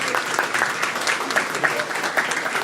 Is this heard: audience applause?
yes